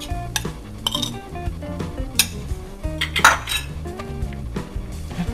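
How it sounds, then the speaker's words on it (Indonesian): A spoon clinks and scrapes against a bowl while mashed tempe is mixed into nugget batter, with busy irregular clattering and a few sharp metallic chinks, close up and alone. "Aduk sampai rata."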